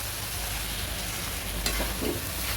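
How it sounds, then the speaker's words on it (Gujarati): Mixed basmati rice and mung beans are stirred in a pot, a soft steady scraping and light sizzle under a low background hum, with a few faint clinks toward the end and no talking. "બધું જ ભેળવી દીધું છે અને બરાબર હલાવી લઈએ છીએ"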